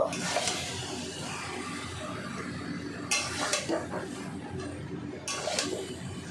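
Mutton and spices are stirred in a pot, giving close scraping and a few metallic clinks of a spoon against the vessel, with light sizzling under occasional talk.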